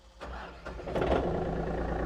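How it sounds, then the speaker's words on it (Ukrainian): A Yanmar AF350 tractor's engine, fitted with glow plugs, cranks briefly and catches, then settles into a steady, even idle heard nearby with no talking. "Заводиться тракторець з пів оберту, працює рівно, гарно, без всяких зауважень."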